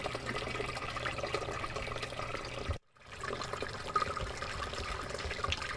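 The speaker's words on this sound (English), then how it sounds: "Let me run this through the sluice and we'll see what we get." Water rushes steadily through a home-built gold sluice processing crushed hard-rock gold ore, a continuous close wash of flowing liquid that dips briefly to near silence midway before resuming, with no voices.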